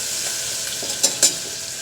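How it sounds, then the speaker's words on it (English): Garlic sautéing in hot oil on a high-BTU burner, a steady soft sizzle with a couple of brief louder stirring scrapes, no talking. "When we're sauteing, we want to hear things hit the oil and cook."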